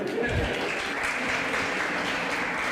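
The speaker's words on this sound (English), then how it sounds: "You can clap for him too." Audience at a fundraiser event clapping for a speaker, a steady, moderately loud patter of applause with a voice mixed in.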